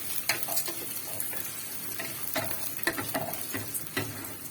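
Vermicelli fries in hot ghee with a steady crackling sizzle, broken by repeated scraping stirs of a utensil against the pan, close and clear.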